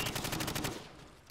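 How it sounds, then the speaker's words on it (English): Rapid automatic gunfire from a rifle shot from the hip at targets blocked by a plywood sheet in Call of Duty 4: Modern Warfare, a fast burst of loud cracks that cuts off and leaves a fading echo. "Bullets will penetrate thin, weak materials like wood, plaster, and sheet metal."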